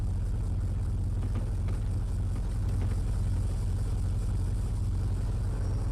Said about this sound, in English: Oh, the car engine's loud.